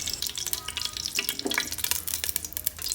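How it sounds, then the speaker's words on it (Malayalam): Half a cup of cooking oil, including oil left from frying beef, goes into a pot for beef mandi, giving a close, soft liquid splatter and crackling sizzle with scattered clicks of utensils. "ഇനി ഈ ഒരു പാത്രത്തിൽ തന്നെ ഇതിലേക്ക് നമുക്ക് ഓയിൽ ഒഴിച്ച് കൊടുക്കാം."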